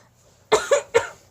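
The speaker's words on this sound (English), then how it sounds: "Did you say bless you to a cough?" A person gives three quick, close, loud coughs in a row after a moment of near silence.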